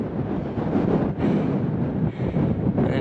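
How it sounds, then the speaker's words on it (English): Steady, strong wind on a mountain ridge along the Pacific Crest Trail buffeting the microphone, a constant low roar with gusty surges and a brief dip, no voices. "It's windy."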